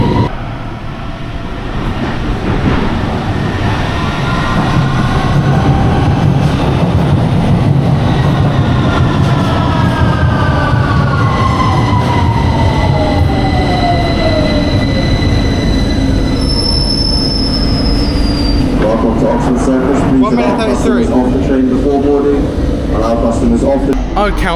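London Underground train pulling into a platform, wheels squealing with long rising and falling screeches over a loud rumbling roar that fades as it slows, close by, with a voice talking over it.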